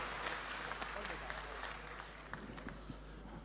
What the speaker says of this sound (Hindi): और जोरदार दोनों हाथ उठाकर तालियां बजाइए